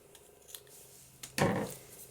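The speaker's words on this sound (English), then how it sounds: "So I'm going to cut that off about there." Scissors snip paper for an envelope embellishment: a few faint small clicks, then one louder, sharper cut near the end, close and quiet with no voices.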